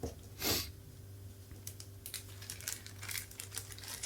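Plastic zip-lock bags crinkle close up as seeds are put in, with one loud rustle followed by a string of lighter, irregular crackles and scrunches.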